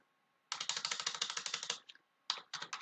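Close fingers type quickly on a computer keyboard in a dense rattling burst of clicks. After a brief pause come two more short runs of keystrokes.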